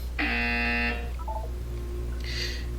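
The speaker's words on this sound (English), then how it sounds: "You will hear a buzzer." A harsh, loud electronic buzzer from the Portal 2 video game sounds once for about a second, then a few short tones follow and a second, softer burst comes near the end over a steady low hum.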